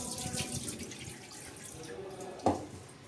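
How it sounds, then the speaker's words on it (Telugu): Water that has just washed rice is poured off, a soft, faint trickle and splash with one brief louder slosh near the end. "ఇలా కడిగిన బియ్యాన్ని వంపేయడమే."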